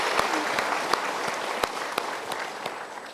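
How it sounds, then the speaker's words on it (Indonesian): An audience applauds in a thick, continuous wash of clapping, with a few louder, sharper claps standing out, steady and fairly close for the whole stretch, with no talking. "kita berikan tepuk tangan"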